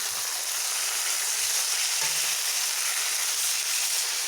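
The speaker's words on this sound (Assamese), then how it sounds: "এতিয়া মাংস দি দিম।" Meat hits hot oil with fried onions in a pan, setting off a loud, close, continuous sizzle and hiss, with a few soft thumps and stirring knocks underneath and no talk.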